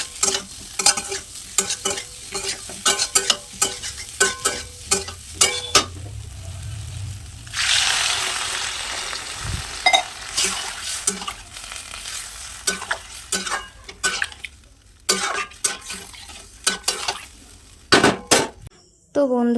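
Aloo dum, a potato curry, cooking in a pan in a home kitchen, with stirring, scraping, and clinking of a spoon against the pot. A steady sizzling burst stands out partway through, and no one speaks.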